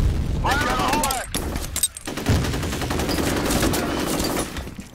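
Dense, continuous automatic gunfire and explosions in the shooter game F.E.A.R. Combat during a capture-the-flag match, loud and close, with voices shouting over the chaotic firing.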